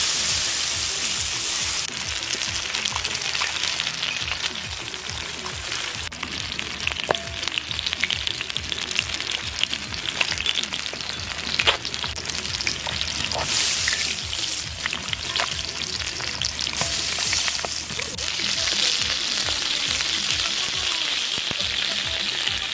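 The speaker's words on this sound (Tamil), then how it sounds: "7 கிலோ மசாலா கலந்த மீனை பொரிச்சு எடுத்துக்கலாம்" Masala-coated fish, Kerala style, frying in hot oil with a loud, steady sizzle that runs unbroken throughout, up close, with occasional spatters and crackles and no talk.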